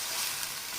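Steady, dense sizzle of boiled mutton and its onion-laced stock going into a hot karahi, a continuous hissing fry heard close with no voices.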